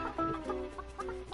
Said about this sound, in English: Oh my god, look at the chickens.